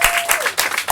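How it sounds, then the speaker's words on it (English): Audience applause at an open stage theatre event, a short burst of dense clapping from a crowd, fairly loud and close, with a brief voice slipping through. "round of applause to everyone who's been going so far"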